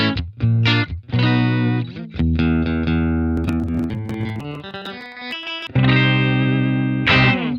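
An electric guitar runs through pedals dialed in clean with the reverb removed, playing bright strummed chords and ringing sustained notes up close, with short choppy strums between longer held passages.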